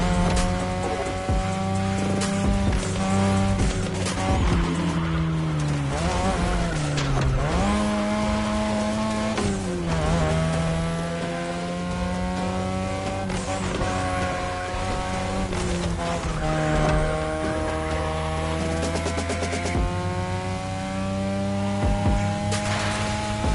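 Race cars roaring through a Need for Speed Heat race, engines revving steadily with rising and falling pitch, gear shifts and occasional tire squeal, loud and continuous across the whole stretch with no talk.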